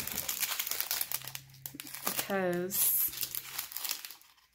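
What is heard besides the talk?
crinkling plastic packaging of diamond painting drills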